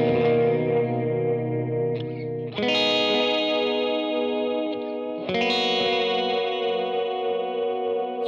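Three strummed electric guitar chords pass through a modulation pedal, each ringing out with a shimmering chorus-like warble before the next strike, played alone with no talk.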